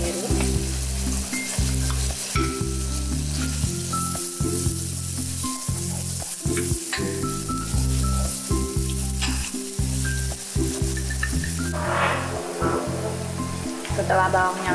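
Shallots and garlic fry in oil in a wok with loud, constant sizzling and repeated stirring scrapes, backed by steady music throughout.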